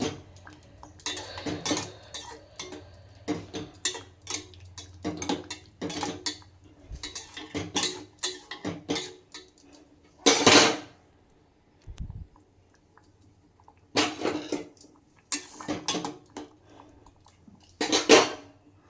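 A utensil stirs food coloring into a pot of khubani ka meetha (apricot dessert), making irregular metallic clinks and scrapes against the pot with short gaps between strokes.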